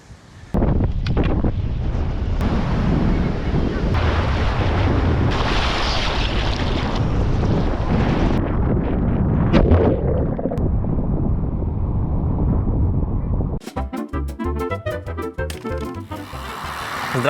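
Strong wind buffets the microphone over the Atlantic Ocean, with a steady loud roar of wind and surf running throughout, no voices, ending in a brief choppy burst of louder noise.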